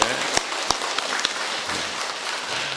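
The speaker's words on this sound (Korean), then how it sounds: "우리 두 분이서 박수 한번 쳐주세요" A church congregation claps in a steady wash of applause, with a few sharper individual claps standing out near the start.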